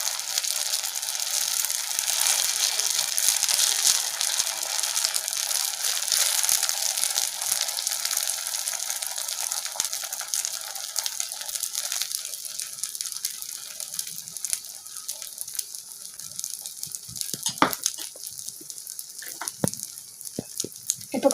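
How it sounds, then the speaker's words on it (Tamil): Chicken omelette batter hits a hot pan and sizzles steadily, a loud, bright frying hiss that gradually thins and quiets, with a few sharp scrapes and clicks of spreading toward the end. "இப்போ நம்ம சிக்கன் ஆம்லெட் போட்டுக்கலாம். அதை நல்லா ஸ்ப்ரெட் பண்ணி விட்டுக்கோங்க."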